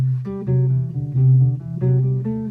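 A melodic line of sustained instrument notes plays a Lydian scale over held jazz chords, each phrase starting with a fresh attack; no voices.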